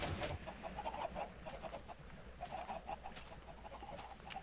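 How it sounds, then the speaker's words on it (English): Minecraft chickens clucking in a game world, soft repeated clucks in a steady scattered rhythm over a low background hum, with a brief sharper sound near the end. "Oh, hello, chickens."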